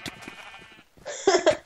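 Sheep in a video game bleat in short wavering calls, a softer series followed by louder, closer bleats overlapping near the end, with no talking.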